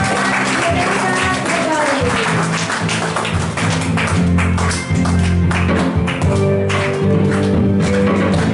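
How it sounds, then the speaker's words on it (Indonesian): Steady rhythmic hand clapping from a church retreat congregation, continuous and fairly loud, mixed with music and a voice talking over it throughout. "Tepuk tangan buat Tuhan."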